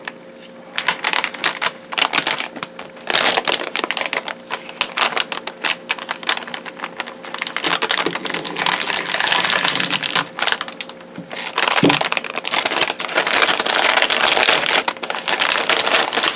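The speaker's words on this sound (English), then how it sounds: "Sorry for the rustling sound, but I can't really do much about it." Continuous crinkling and crackling of plastic packaging being handled close up, with dense irregular rustles that rise and fall.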